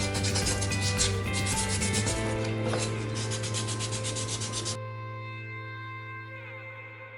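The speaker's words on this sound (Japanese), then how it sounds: "あとはねもう地道にサンドペーパー、これ400番ですね、これでね磨いていきます" A cast motorcycle wheel on a Super Cub copy bike is hand-sanded with 400-grit sandpaper, close rhythmic rubbing strokes over a steady background hum, then the scrubbing stops and only the hum remains.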